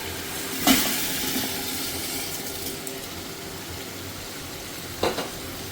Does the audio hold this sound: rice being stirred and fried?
yes